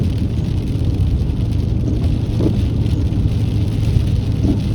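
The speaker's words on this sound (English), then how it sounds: "I got a shout to overcome the rain and the windshield wipers" Rain pours steadily on a car driving near Bryant Bridge in Holt, Florida, a dense close hiss over a low road rumble, with faint wiper sweeps.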